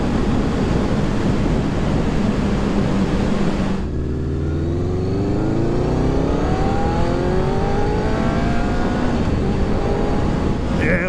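A Honda CBR600F motorcycle revs hard through its gears, its engine note sweeping upward in repeated climbing pulls, loud and close over strong wind rush.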